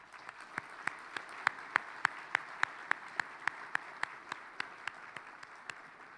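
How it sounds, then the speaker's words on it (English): Members at a Leadership Memphis anniversary celebration applaud, heard as a sparse run of distinct, evenly spaced claps standing out over a faint room wash, rising then tapering off. "Please give yourselves a round of applause"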